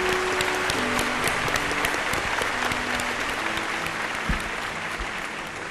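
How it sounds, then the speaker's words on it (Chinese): A studio audience at a televised talent show claps steadily and loudly for the whole stretch as family members are welcomed onto the stage, a dense, sustained ovation. "我们掌声有请啊"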